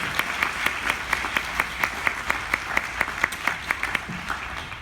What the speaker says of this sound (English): can we just give a round of applause of God's goodness for Jeff and Sheri?